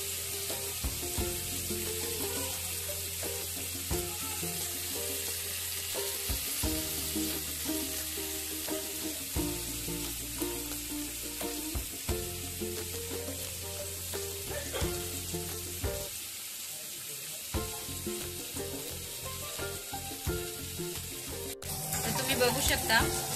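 Fish pieces frying in oil in a pan, a steady broadband sizzle running throughout with periodic clinks and scrapes of a utensil, fairly close, with no speech over it.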